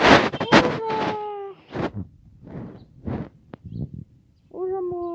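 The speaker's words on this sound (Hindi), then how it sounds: "दे बोल रहा मोर" Peacock calls in a rural village setting, several loud nasal wailing cries with harmonic tones, coming in bursts at the start and again at the end, with quieter calls in between.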